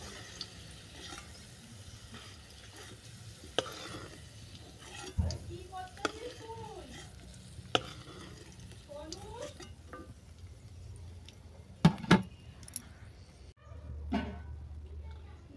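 Potatoes and taro frying in oil in a pan while being stirred, with a soft, steady sizzle, occasional utensil clinks and scrapes, and a brief voice murmuring in the middle.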